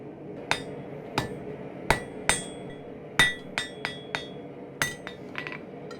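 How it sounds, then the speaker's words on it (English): A blacksmith's hammer strikes hot mild steel over the radius of an anvil while forging a leaf bottle opener, with about a dozen sharp ringing blows at an irregular rhythm, close and loud. "So I'm using the radius of my anvil to draw the material out."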